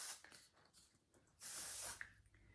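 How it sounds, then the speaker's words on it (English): Amika texture spray misted into hair, a soft aerosol hiss in short bursts, the longest and loudest about half a second, with quieter spritzes around it. "just pop a bit of texture spray into the hair"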